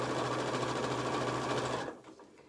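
A sewing machine stitching down fabric strips on a hot water bottle cover, a loud, close, steady whirring run that stops abruptly near the end.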